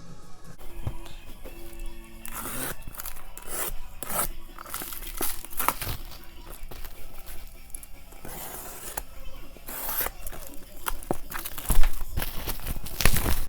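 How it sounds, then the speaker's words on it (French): Steelbooks being unpacked from a cardboard parcel produce close crinkling, rustling and tearing of packaging with handling knocks, in irregular bursts, with brief speech at moments. "donc je vais déballer tout ça et je vous montre toutes les pièces"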